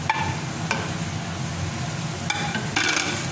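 Boiled dal being stirred into softened potatoes in a pot, village-style black dal cooking: a few scraping stirs with a steady low sizzle underneath, close and moderately loud, no voices.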